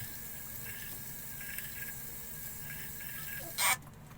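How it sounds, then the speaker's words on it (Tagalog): Tap water runs steadily into a spray bottle, a soft continuous trickle under light room noise, with a short sharper splash or clatter near the end. "Tapos lagyan natin ng tubig."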